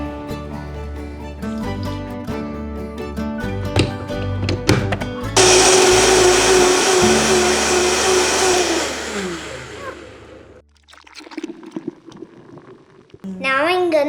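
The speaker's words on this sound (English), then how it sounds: "Yeah, and with this blender" A kitchen blender whirs loudly as it purées watermelon for homemade fruit popsicles, a steady roaring buzz that stops after several seconds, with clattering and handling noises before and after.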